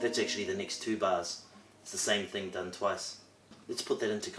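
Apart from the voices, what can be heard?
No everyday noises stand out.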